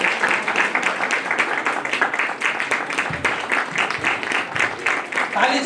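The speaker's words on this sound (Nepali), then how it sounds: "हामी उहाँलाई गोपाल दाइलाई ताली" A church congregation at a Christmas celebration claps together in a sustained round of applause, dense and moderately loud, with voices mixed in beneath.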